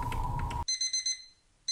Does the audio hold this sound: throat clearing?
no